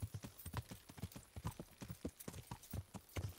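Horse hooves clip-clopping at a brisk riding pace in the medieval video game Kingdom Come: Deliverance, a quick regular rhythm of close, distinct footfalls throughout.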